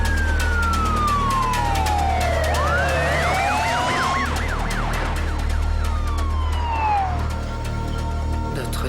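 An ambulance siren wails past in rising and falling sweeps over steady traffic rumble, loud and close, then fading slightly as the vehicle moves on.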